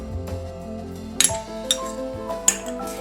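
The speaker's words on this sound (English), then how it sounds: "we'll begin with mixing all these ingredients into the minced pork" Spoon or utensil scraping and clinking against a bowl while ingredients are mixed into minced pork, a few sharp clinks over steady background music.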